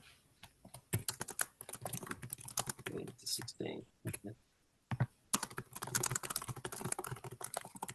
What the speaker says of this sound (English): Somebody's typing really fast.